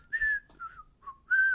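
A person whistles a short tune of four clear, sustained notes with brief gaps between them, close and alone with no talking.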